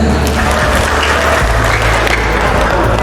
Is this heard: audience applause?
yes